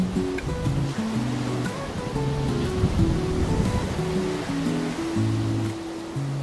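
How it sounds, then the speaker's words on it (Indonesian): Ocean waves breaking on a beach along the coast near Gajahrejo village in Malang, a steady continuous wash of surf with no talk, with a faint tonal hum of music or voices beneath. "sekedar duduk menikmati suara ombak"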